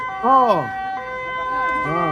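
An ambulance siren sounds nearby in rising and falling wails, one clear sweep, then a fainter one and another starting at the end, over quiet background.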